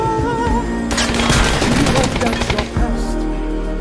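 Rapid gunfire in an action scene, a dense burst of automatic shots lasting about two seconds, loud and close, with a brief voice near the end.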